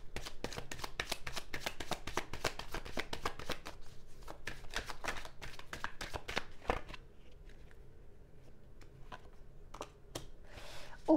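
Tarot cards are shuffled in rapid riffling flutters for several seconds, close and crisp, then slow to a few separate snaps and slides as cards are drawn and laid down.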